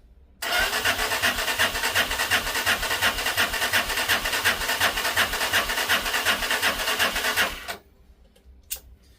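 Lexmoto Isca 125 motorcycle engine cranking over with ignition on and full throttle during a compression test, a steady rapid whirring churn lasting about seven seconds before cutting off abruptly, close and loud with no talking.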